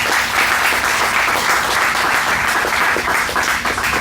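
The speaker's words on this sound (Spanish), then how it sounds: "Denle un aplauso al Señor y vamos a orar." A church congregation applauds during a Sunday service, dense continuous clapping that stays loud and even throughout.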